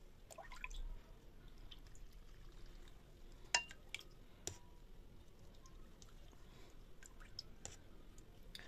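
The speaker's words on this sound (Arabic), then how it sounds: "نبدا ان احنا نحط الميه على الجزر لغايه ما يغطي الوجه كله" Salted water poured over carrots for pickling, soft faint trickles, drips and small splashes close by, scattered and fairly quiet, with no voices.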